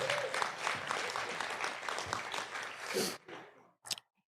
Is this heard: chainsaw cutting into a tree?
no